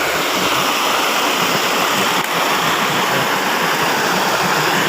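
Water pours and splashes continuously nearby from an artificial waterfall, a loud, steady rushing roar with no talking.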